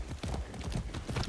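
Horse hooves clip-clop at a steady trotting rhythm in the Far Cry 6 video game, close and continuous across the short stretch, with no talking.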